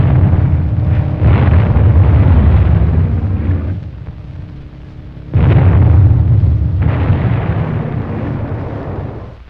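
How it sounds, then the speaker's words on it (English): Bombs from a dive bomber attack on gun positions on Vieques bursting in two long, heavy, rumbling booms, each rolling and fading before the next. "Air observers quickly located the gun position. Dive bombers plastered them."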